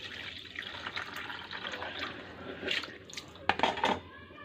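Water drains off soaked grated potatoes for jhuri aloo bhaja, trickling and splashing with a few louder drips and small clatters near the end, close by and with no talk.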